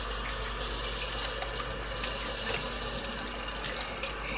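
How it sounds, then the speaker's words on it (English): Tap water runs steadily into a sink while a medicine dispenser is rinsed out. The flow is close and continuous, with small splashy bursts and no speech. "Now I'm going to wash out this medicine thing in the sink."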